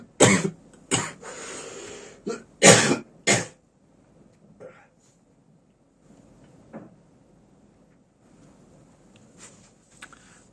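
A man coughs in a few harsh, close bursts that cluster tightly at the start, with a throat-clearing sound among them. Quieter shuffling and small knocks follow in an otherwise still room.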